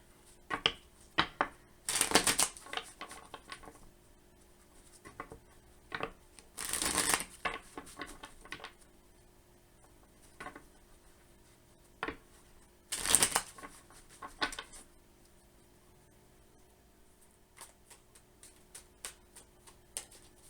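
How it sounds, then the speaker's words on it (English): Tarot cards shuffled by hand in several bursts of riffling at about 2, 7 and 13 seconds, with quieter flicks and taps of the deck between them, close and fairly soft. "we'll get a few shuffles here and see what's going on with the overall energy for Leo risings"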